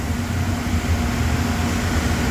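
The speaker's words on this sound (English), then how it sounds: "I unfortunately had to turn the dust collector back on." A steady mechanical hum with a low droning rumble and broadband whir, constant and fairly loud, from a dust collector running nearby in a CNC workshop.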